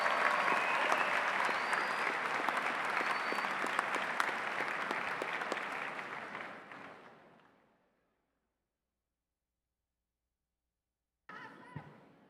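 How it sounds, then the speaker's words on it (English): Applause from a large audience at a university business school graduation convocation, dense and steady for about six seconds before fading to silence. A short burst of noise follows near the end. "Maybe we give her a big round of applause for those inspiring words."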